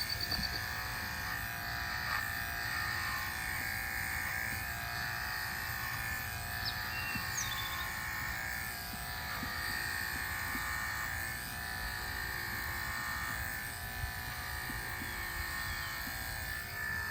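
Electric clippers run on a miniature horse's coat as it is trimmed, giving a constant close buzzing hum that holds steady throughout with slight shifts as the blades move.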